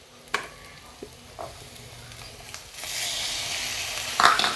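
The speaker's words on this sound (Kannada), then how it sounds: "ಇವಾಗ ನೋಡಿ, ಹಿಂಗನ್ನು ಹಾಕಿ ಒಂದ್ಸಲ ಮಿಕ್ಸ್ ಮಾಡೋಣ." Asafoetida is stirred into a frying seasoning in a pan for avarekalu upma. A few soft scrapes come first, then a steady, loud sizzle rises close up, with a brief clink near the end.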